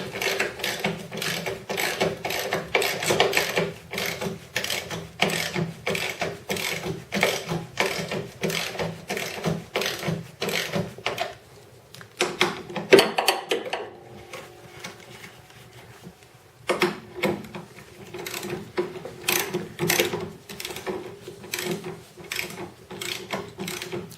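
A ratchet tightens lock nuts on new struts during a Volvo C70 strut replacement, making rapid repeated clicking bursts, close and crisp, with short pauses between runs of strokes.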